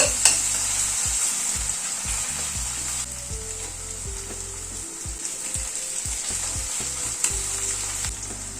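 A teaspoon of garlic paste and green chillies frying with onion in hot oil for a chole masala: a loud, steady close-up sizzle with irregular stirring scrapes throughout, no speech.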